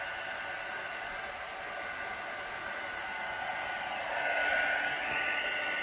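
A hair dryer pushing alcohol ink, including gold, across a canvas, giving a loud, continuous airy roar that swells slightly near the end, with no talking.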